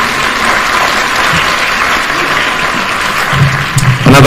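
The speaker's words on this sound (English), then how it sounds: "Another warm applause for the CEO Kenya" A live audience claps steadily and loudly for the CEO at the official opening of Kenya Innovation Week, a dense, sustained burst of applause that carries through to the end without talk over it.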